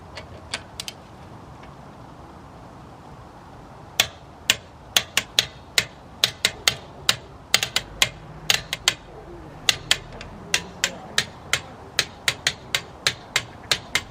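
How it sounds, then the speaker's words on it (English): Sharp metallic clicks from a wrench torquing down the bolts on 18-inch BMW wheels, arriving singly and then in quick rhythmic bursts, close and fairly loud over a quiet background. "let's torque these wheels down"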